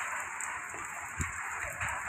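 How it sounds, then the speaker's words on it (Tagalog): Light rain falling on a street in Tondo, Manila, a soft steady hiss with faint scattered ticks of drops, quiet and continuous with no talk over it. "may konting ulan"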